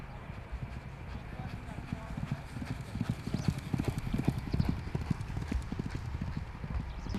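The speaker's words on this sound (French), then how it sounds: "Deux chevaux à l'entraînement." Two horses in training, hooves clip-clopping in a quick, steady trotting rhythm that grows louder and closer midway, with people talking faintly in the background.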